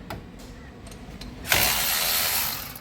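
A ratchet wrench clicks in short bursts while turning a 13mm bolt on the hot pipe of a Nissan Navara NP300 diesel, then a louder, steady broadband hiss or rush takes over in the second half.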